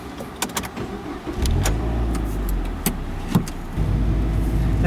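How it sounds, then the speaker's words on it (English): A stock 2011 Mazda MX-5 Miata with manual transmission pulls away with the top down, its engine note rising through gears between sharp mechanical clicks and thumps, close and moderately loud. "let's take this car for a drive and see how it does"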